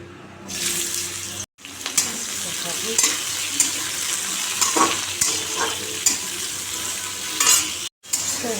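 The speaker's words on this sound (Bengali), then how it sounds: "এখন ভাজবো আমি উচ্ছে কুমড়ো ভাজা" Bitter gourd and pumpkin sizzle and crackle in hot oil with scraping stirs, a steady frying hiss broken by two brief silences.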